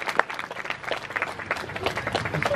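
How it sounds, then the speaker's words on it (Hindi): Crowd applause for a dog stunt show at a Republic Day event, a steady wash of clapping at moderate distance with a few sharper individual claps standing out. "एक बार जोरदार तालियां हो जाए"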